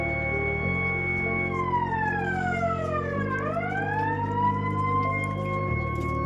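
A loud siren wails continuously, its pitch sweeping down and back up in a long slow cycle, steady and close with no talking.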